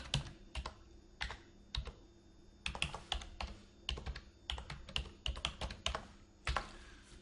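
Fingers tap on a computer keyboard in quick, irregular clusters of keystrokes with brief pauses, close and fairly quiet against a soft background hum, no speech.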